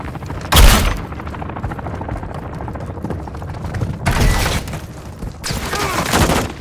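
Gunfire rattles in a Call of Duty: Modern Warfare III match: a sharp, loud burst opens, followed by dense, continuous automatic fire and later heavy volleys, with faint voices underneath.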